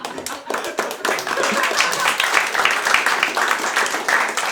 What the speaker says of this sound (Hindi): आई नो कुछ लोग प्रेशर में ताली बजा दिए